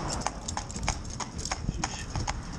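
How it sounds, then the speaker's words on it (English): Hooves of a traditional cob horse clip-clop in a steady, even rhythm on a road, close and distinct over light background noise. "Lovely free moving horse he is."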